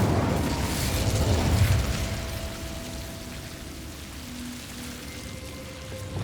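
An Incendio fire spell cast in Hogwarts Legacy: a loud, rumbling burst with a whoosh in the first seconds, fading into a soft crackling wash that lasts to the end.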